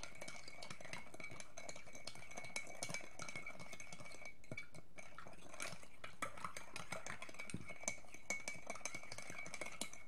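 A spoon stirs cold chocolate milk with sugar in a glass, making quiet, steady swirling with frequent light clinks against the glass, close up, with no voices.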